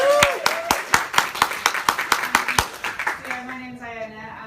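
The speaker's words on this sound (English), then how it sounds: "Round of applause then." Audience clapping at a startup talk in London, a string of distinct claps in a fairly regular rhythm that thins out and stops as a voice begins speaking at the end.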